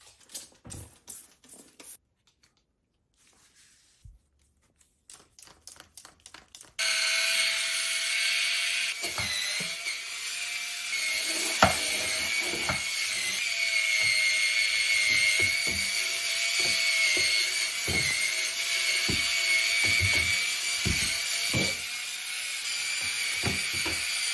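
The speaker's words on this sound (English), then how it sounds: "This scrubber is great for hard stains." A cordless electric spin scrubber brush whirs steadily at close range after a few short clicks and handling sounds, with scrubbing scuffs layered over the motor hum.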